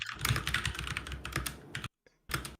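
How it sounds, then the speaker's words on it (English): Fast, close keyboard typing clatters in a dense run of keystrokes, breaks off into a brief silence, then starts again with a few more taps. "Doug is typing out his"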